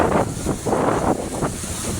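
Strong wind buffets the microphone beside the sea, a continuous loud roar with gusting surges and the wash of large waves underneath, no voices.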